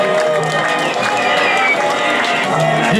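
Concert crowd at Gala Hala applauding and cheering for a band, a steady wash of clapping and shouts that carries through the whole stretch over amplified sound.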